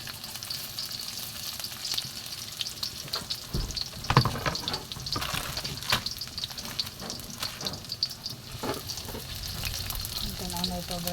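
Garlic and onions fry in a pan with a steady, close crackling sizzle, broken by scraping stir strokes and clinks of a utensil against the pan throughout.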